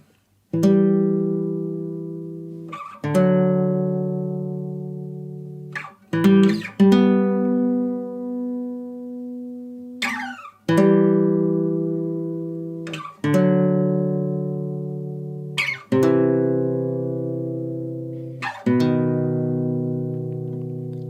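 Guitar picks out the first line of the melody from a piece in The Last of Us Part 2, in about eight plucked chords or note pairs that ring out and decay, played alone and close.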